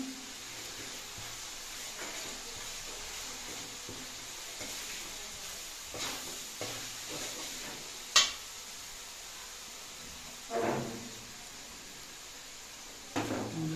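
Chicken frying in a pan as spices go in and get stirred, a steady low sizzle with a few sharp clinks and scrapes of the spoon against the pan.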